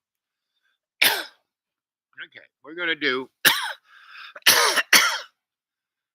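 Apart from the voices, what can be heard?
coughing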